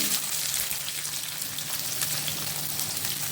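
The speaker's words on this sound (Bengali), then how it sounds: "আমার গরম হয়ে গেছে, এগুলো ভালোভাবে ভাজা হয়ে গেছে, খুব সুন্দর একটা গন্ধ বেরিয়ে গেছে। ঠিক এই সময় পেঁয়াজগুলো দিয়ে দিচ্ছি।" Onions sizzle in hot oil in a pan while a mutton curry is prepared, a steady, moderately quiet frying hiss with no talking.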